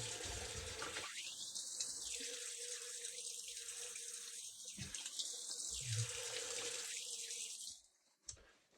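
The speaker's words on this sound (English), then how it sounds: "So we'll rinse that off." Water runs from a bathroom tap for rinsing after a shave, a close steady splashing stream that shifts as hands pass through it, then stops near the end.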